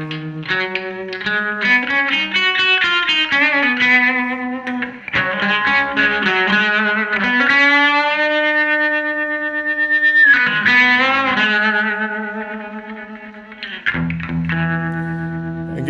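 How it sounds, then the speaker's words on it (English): Electric guitar chords and single notes from an Epiphone Zephyr with light gauge strings ring out through an amp, drenched in reverb and echo, with a lush, slightly distorted wash between phrases. "Engage the reverb."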